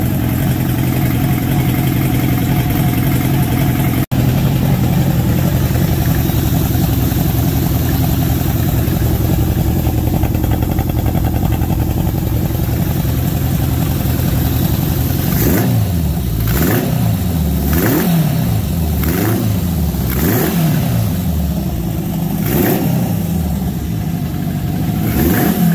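A Yamaha XJ1100 motorcycle engine runs after a carburetor upgrade, idling steadily and loudly up close before a series of sharp throttle blips and revs in the second half.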